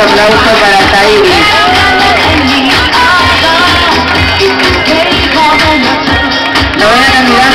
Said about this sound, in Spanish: ¡Fuerte el aplauso para Tairi!